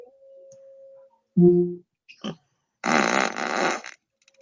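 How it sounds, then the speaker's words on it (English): A fart sound effect plays from an Alexa smart speaker as a single loud, wet burst lasting about a second, following brief electronic tones and a short click. "Come back soon to fart sound."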